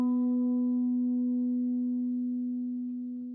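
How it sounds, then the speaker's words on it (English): A perfect fifth harmonic from an open E guitar string rings as a single clean, sustained tone, slowly fading over roughly three seconds with no voices. "You can hear the perfect fifth harmonic,"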